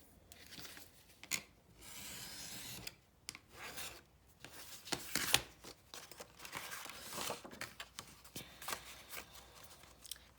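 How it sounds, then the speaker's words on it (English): Booklet pages trimmed down after being lined up: soft, close rasping and rubbing strokes of paper being cut, coming in several short bursts separated by quiet gaps. "I think I'll line it up and trim it down."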